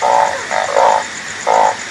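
Narrow-mouthed frogs croak in the rain, loud and close, giving several short buzzy calls in quick succession with a brief pause between groups.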